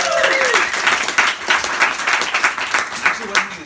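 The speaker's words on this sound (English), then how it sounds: "Let's give Sam a round of applause." Audience applause at a fireside chat event, a full, lively burst of clapping from a crowd, fairly close and sustained, with a voice speaking briefly over it.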